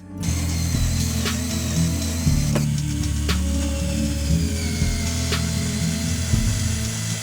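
A power driver or drill runs in steady whirring bursts as screws go in to fix an under-desk mount for a Mac Studio, with faint clicks between, close up and without speech.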